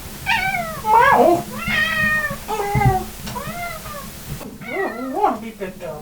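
A cat meows repeatedly, several drawn-out, rising and falling cries close by, with a low hum underneath.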